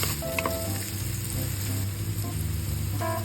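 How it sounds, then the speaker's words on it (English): Garlic and onions sautéing in hot oil in a pan for chicken parm, a steady loud continuous sizzle with no talk. "we heat oil again in another pan, and then we saute the garlic and the onions"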